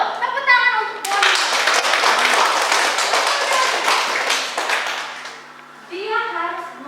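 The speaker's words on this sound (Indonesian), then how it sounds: "Tepuk tangan untuk Doni." A crowd bursts into steady applause that carries on for several seconds, with a voice speaking briefly before and after the clapping.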